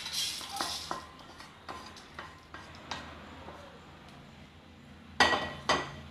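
Cooked beetroot poriyal with cumin is scraped out of a kadai onto a plate: scattered metallic scrapes and clinks of a spatula against the pan, moderately close, ending in two sharper knocks, with no talking.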